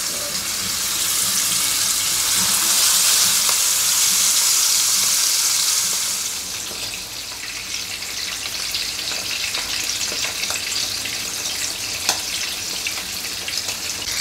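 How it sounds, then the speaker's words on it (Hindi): Pomfret fish frying in hot mustard oil, a loud steady broadband sizzle that spits and crackles continuously, easing slightly partway through but persisting close up throughout with no talk. "अब इसमें हम मछली फ्राई करें."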